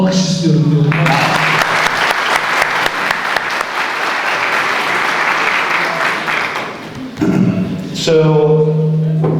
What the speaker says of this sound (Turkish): Bu yemeği hazırlayanlara, ikram edenlere hepsine bir alkış istiyorum diyor.